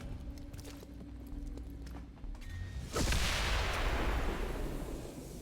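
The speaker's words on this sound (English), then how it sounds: "Fortunately, that's not an explosion that hurts us." A heavy explosion in XCOM 2 Long War of the Chosen bursts about halfway through, a loud broadband blast that decays slowly after quieter background ambience and faint tones.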